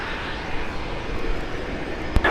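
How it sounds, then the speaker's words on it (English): An MD-83 jet airliner on its takeoff roll, a steady broad roar of engine noise that holds level and then picks up a little near the end, heard from a distance with no talk over it. "The Aeronavis TSM MD-83 heading to Saltillo is rolling."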